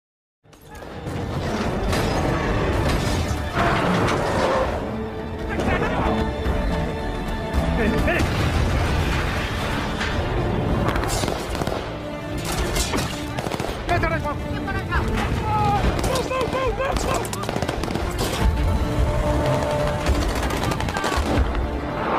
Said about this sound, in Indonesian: lokasi penjemputan mereka di bendungan telah diketahui oleh pihak Taliban, dan aksi baku tembak tak terhindarkan lagi